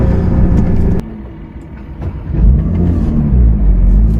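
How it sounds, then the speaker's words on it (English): A 2022 Porsche 992 GT3 with an unfamiliar clutch gives a loud, close, low engine rumble that cuts out abruptly as it stalls. After a brief lull, the engine rumbles back up strongly. "that, me stalling the car, is one of the big problems with this car"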